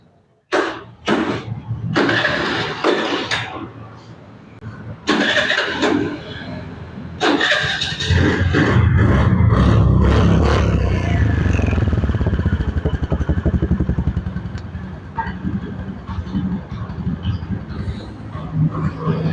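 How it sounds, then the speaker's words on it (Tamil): A motor scooter engine cranks with a few sharp bursts, then catches and runs with a steady rumbling idle, close by, with people talking over it. "இந்த பைக் ஸ்டார்ட் பண்ணி பார்க்கலாம்"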